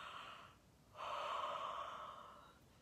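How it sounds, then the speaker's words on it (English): A child yawns during a yawn song: a breathy inhale, a short pause, then a longer, louder airy yawn that fades out near and alone. "Yawn your sleepies out"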